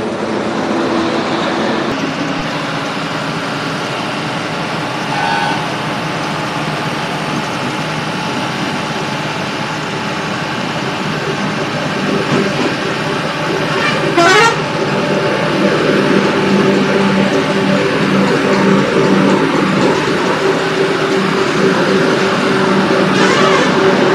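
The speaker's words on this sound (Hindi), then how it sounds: "अभी भी मोहसिन भाई की ड्राइविंग चल रही है।" A Lucky Travels sleeper bus drives at night from Rajula, Gujarat, toward Mumbai, its engine and road rumble a steady, continuous drone throughout, with a brief whine or horn-like sweep partway and no talk over it.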